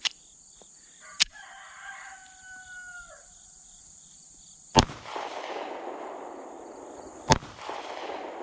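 Three sharp, isolated shots from a DiamondBack DB9 Gen4 pistol at a shooting range, spaced a few seconds apart, with a faint rooster crowing in the quiet background.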